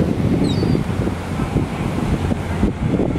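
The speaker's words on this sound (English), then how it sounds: "It's nice, cool breeze off the water." A cool breeze blows in off the water, producing a loud, steady wind rumble buffeting the microphone, with faint surf-like wash beneath it and no speech.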